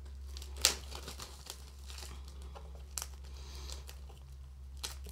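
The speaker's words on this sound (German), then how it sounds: "Ich nehme als erstes die Folie hier ab" Plastic shrink film is peeled from a Mummy steelbook: crinkling and crackling near the microphone with one sharp tearing snap, then scattered softer rustles over a low steady hum.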